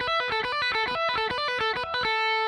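A distorted electric guitar lick from a solo plays three times back to back, ringing bright and sustained with no talking.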